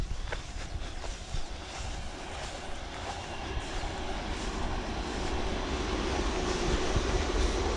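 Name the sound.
passing train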